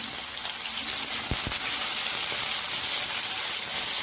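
Green chilies frying in hot oil after garlic, a loud, steady sizzle and hiss filling the whole stretch, close up, with a couple of brief sharp pops near the start.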